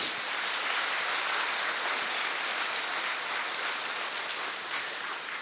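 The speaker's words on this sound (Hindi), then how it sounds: "वो ताली बजा दो एक बार" A large gathered audience at a Brahma Kumaris group meditation session claps together in sustained, dense applause, close and loud at first and then holding steady without pause.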